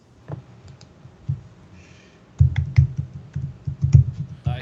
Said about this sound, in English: I hear Rich typing furiously.